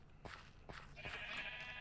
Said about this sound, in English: sheep spawned of the preferred type